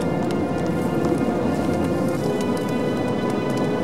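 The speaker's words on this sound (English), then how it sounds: "That is the sound of sandhoppers." A swarm of sandhoppers on a beach at night makes a steady, dense pattering much like rain falling on a surface, holding at an even level throughout with no voices.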